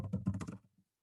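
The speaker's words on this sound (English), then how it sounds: "I can start typing it." A few quick keystrokes on a computer keyboard, quiet and close, patter for about half a second during a Linux class and then stop.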